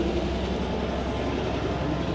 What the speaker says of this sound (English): Got another engine train coming through. Sorry about all the noise.